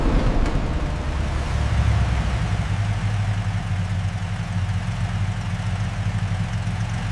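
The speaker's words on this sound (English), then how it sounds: "This 1978 model, lovingly restored, idles with the deep rumble only a true classic can produce." Restored 1978 Toyota Land Cruiser FJ45 pickup engine idling, a steady deep low rumble heard up close and alone, unchanging throughout.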